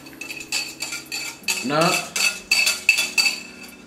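Butter, sugar and spices for a Haitian cake are beaten in a bowl, and a utensil strikes and scrapes the bowl in about a dozen quick, clinking strokes, close and clear.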